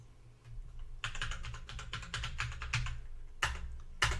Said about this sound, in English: If I can type it correctly.